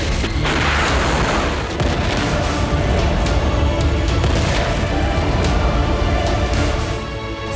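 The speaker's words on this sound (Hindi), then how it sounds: "तेल अवीव में आया विकराल बारूदी बवंडर।" Missile strike explosions in Tel Aviv, heard as a continuous loud roar of blasts and rumbling booms with no speech.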